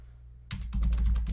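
Typing a search term on a computer keyboard: a quick run of close, crisp key clicks in an uneven rhythm, heard alone over a low background hum.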